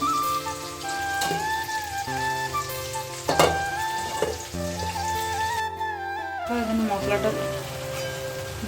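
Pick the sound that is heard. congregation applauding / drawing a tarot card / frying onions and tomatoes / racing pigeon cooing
frying onions and tomatoes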